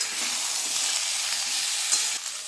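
Mixed vegetables sizzle in a pan for a light vegetarian curry, making a dense, steady close frying hiss with faint stirring ticks throughout.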